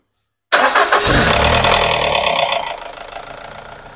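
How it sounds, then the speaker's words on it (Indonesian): Nissan X-Trail T30 engine cranked by its starter, catching after about half a second and settling into a loud, rough idle that gradually eases. "Ini kita coba starter untuk mesinnya"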